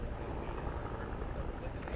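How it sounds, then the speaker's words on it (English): Helicopters fly over the scene of a shooting in El Paso, Texas, giving a steady broadband rotor drone that fills the background without a break. "There was many still helicopters from Paso Texas flying around."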